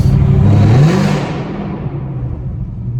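Camaro ZL1 fitted with Kooks long tube headers, a loud close engine rev that climbs then drops away into a rumbling idle, with no talk over it.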